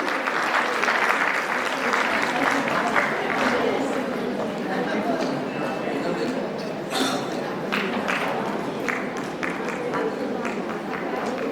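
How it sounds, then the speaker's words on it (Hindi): An audience at a religious ceremony gives sustained, dense applause lasting several seconds at a steady, loud level, with faint voices mixed in. "तो तालियां जोरदार होनी चाहिए"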